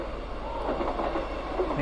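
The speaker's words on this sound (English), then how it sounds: "the 3:36 train heading towards Alamein" A passing train near Willison station bound for Alamein, a continuous rumbling roar with faint rhythmic wheel clatter, building slightly in loudness over a couple of seconds.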